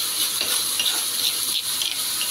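Green chilies hit hot oil left over from frying anchovies and give a bright, steady, close sizzle that crackles and hisses throughout with no talking.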